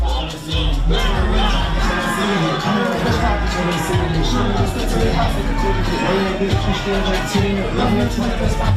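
A concert crowd at a cheap $5 rap show roars and cheers loudly and continuously, with whoops and shouts rising from a dense babble of voices close around.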